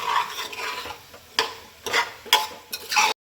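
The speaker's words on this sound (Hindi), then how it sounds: "अब मैं सारी सब्जियों को मिला दूँगी।" Vegetables being stirred in a pressure cooker pot make a series of short scraping, clattering strokes, about five distinct stirs in an irregular rhythm, close and clear.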